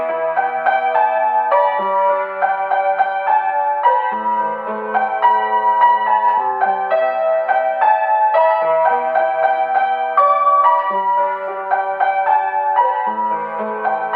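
Piano plays a melodic phrase from a song, a flowing line of single notes over soft lower notes, steady and moderately loud, heard alone without speech.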